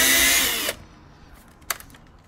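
A power drill whines loudly and steadily as it backs out T25 screws from the under tray of an Audi S3 8V, then cuts off and leaves a couple of faint clicks of handling.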